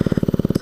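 A Honda Ruckus scooter engine with an idling fault chugs at idle in a fast, even, low thumping pulse, loud and close, over a brief stretch of under a second.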